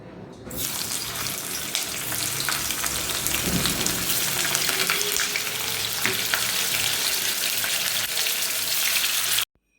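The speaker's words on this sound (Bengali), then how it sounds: "এখানে ফুলকপিগুলোকে আমি লাল লাল করে আগে ভেজে নেব" Cauliflower florets frying in hot oil in a wok: a sudden onset of loud, dense sizzling and crackle that holds steady for several seconds close up, then cuts off abruptly.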